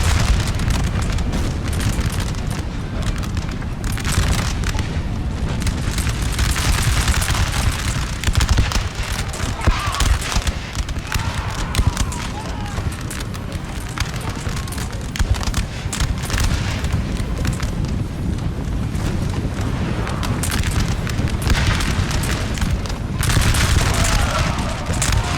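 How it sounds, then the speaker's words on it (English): Musket volley fire from Napoleon: Total War fills the whole stretch, a dense, continuous crackle of rolling gunfire and booms throughout, with the battle din steady and loud from start to finish. "Got off a nice volley there too."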